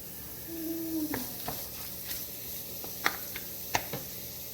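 Chopped garlic, onions and celery sizzle in avocado oil in a pan, a steady soft hiss with a few sharp clicks and stirring knocks, moderately close, with no talking.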